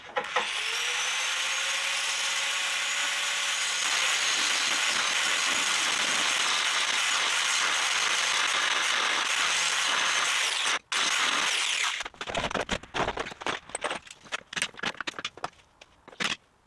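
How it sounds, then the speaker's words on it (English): Angle grinder cutting down a seized nut on a Honda Civic front shock absorber mount, a loud continuous high whine that runs steadily for about eleven seconds, dips briefly, then breaks into choppy bursts of grinding contact. "I'm going to have to probably grind the nut off."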